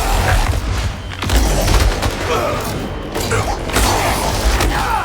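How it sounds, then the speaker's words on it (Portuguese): Loud, close gunfire in Marvel's Spider-Man 2 gameplay, several heavy booming shots and bursts over a dense, noisy action soundscape. "Ele tá atirando!"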